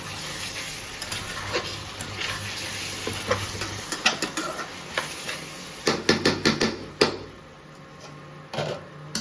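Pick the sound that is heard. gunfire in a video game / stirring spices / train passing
stirring spices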